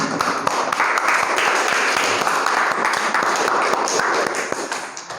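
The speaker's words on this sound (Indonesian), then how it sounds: "Tepuk tangan untuk kelompok 1." Students in a classroom clap for a group of classmates, a lively burst of many hands with distinct sharp claps standing out, close and steady for several seconds before tapering off.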